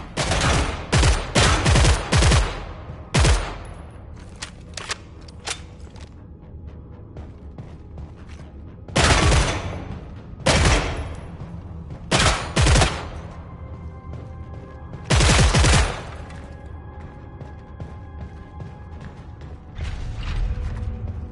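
Handgun shots at a shooting range in the video game Killing Floor, several loud, sharp bursts of rapid firing separated by pauses, with mechanical clicks and handling noises between volleys and no talk.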